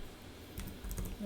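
A few quick, faint keystrokes clack on a computer keyboard as a command is typed in a quiet room.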